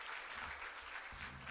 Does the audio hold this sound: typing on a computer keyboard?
no